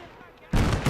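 An artillery piece in a video game fires with a sudden loud, booming blast that follows a stretch of quieter background noise.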